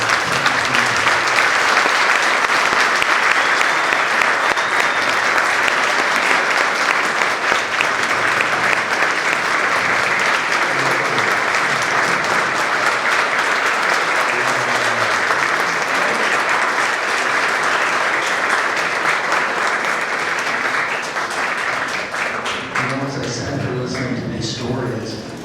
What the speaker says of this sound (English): if you would join me first in applauding them for what they do